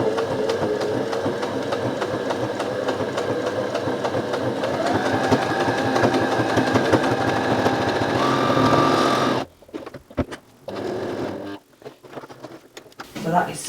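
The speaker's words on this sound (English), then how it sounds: "So, all you need to do is sew that together." Domestic sewing machine stitching fleece pieces of a dog coat together, a steady close whirring run for about nine seconds, then stopping and starting in short bursts.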